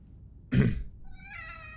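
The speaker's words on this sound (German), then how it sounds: "Ich finde die Katze" A cat meows once in The Evil Within horror video game, a short, close, fairly loud call that opens with a burst and trails into a thin tonal whine, with no talk over it.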